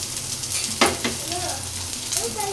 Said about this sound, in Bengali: শুকনো মরিচ পেঁয়াজ আর রসুন একসাথে এত ভাজা ভাজা করবো না, খালি কালারটা পরিবর্তন করব।